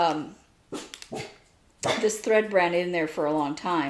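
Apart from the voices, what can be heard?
dog barking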